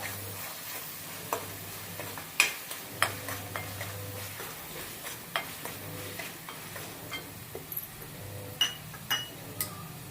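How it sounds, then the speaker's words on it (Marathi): Cumin and coriander powder being sautéed in a pan, a low steady sizzle under repeated sharp scraping and clinking stirs, each stroke close and distinct, no voices. "त्यात जिरे आणि धण्याची पावडर एक चमचा टाकून घेऊया ते एकसारखं परतून घेऊया"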